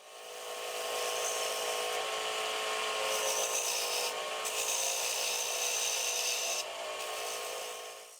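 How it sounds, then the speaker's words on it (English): A steady, close rasping hiss comes from a wood lathe as an Easy Wood Tools cutter adds a shoulder cut to a beaded rim bowl, with brief breaks where the tool lifts off the wood; no one speaks. "we add a little shoulder cut to make it a bit more interesting"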